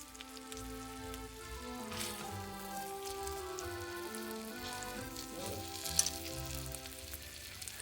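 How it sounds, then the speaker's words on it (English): Chicken breasts fry in a pan with a steady, dense sizzle and crackle that runs throughout, a few louder pops near the end, no voices. "So we're going to brown it on both sides. While that's frying, we'll prepare 2 more pieces."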